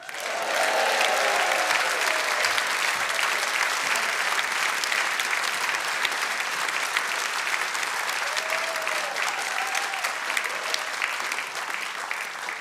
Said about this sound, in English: I haven't had that much applause since last night.